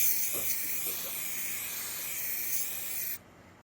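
Teal candy pearl paint sprayed onto a vintage drive-in speaker chassis makes a continuous close, bright hiss lasting about three seconds before cutting off abruptly into silence.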